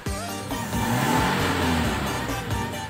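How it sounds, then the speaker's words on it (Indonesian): Toyota Innova engine revving with a sluggish, delayed throttle response, the motor rising slowly in a steady, loud, close drone with a rumbling low end and no talk over it. "ini gasnya agak delay saat kita injek gas, jadi gasnya agak lambat naiknya"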